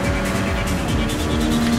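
Race car driven in the wet in Gran Turismo 7, a continuous loud engine drone with a rising tonal whine and a hiss of spray, steady and close with no talk.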